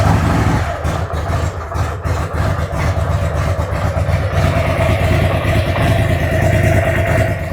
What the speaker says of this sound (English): we're at the point where we're about to fire the bike up